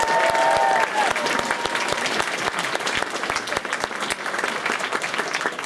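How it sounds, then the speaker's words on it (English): A convention audience at an anime event's closing ceremony applauds the Maids of England with steady, dense clapping. The room is large and reverberant, and a faint voice is heard early on. "you need to put your hands together for the Maids of England"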